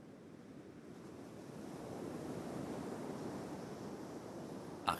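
Ocean waves wash up on Cassino beach in a continuous roar of surf mixed with wind that slowly swells, with no voices, ending on a brief louder gust.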